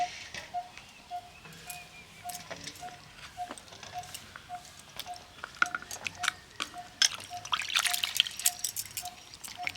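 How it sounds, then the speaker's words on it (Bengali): Raw mangoes washed in water by hand, with close drips, trickles and small sloshing splashes that grow busier toward the end, no speech. "আমগুলোকে এখন ভালো করে জল দিয়ে ধুয়ে নেব।"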